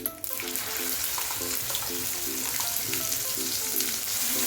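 Masala spice paste fries in a hot pan with a dense, continuous sizzle and crackle up close, steady throughout with a faint background hum and no voices.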